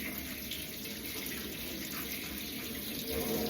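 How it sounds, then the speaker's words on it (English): Hot water runs steadily from a household tap into a sink, a continuous close splashing rush that swells slightly louder near the end, with no talking. "So if I run it, so I've got some real hot water."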